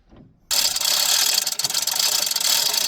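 A rusty chain holding a pipe on a barge is slowly cranked up, starting abruptly after a brief quiet moment, then giving a continuous harsh grinding, rasping scrape, loud and close.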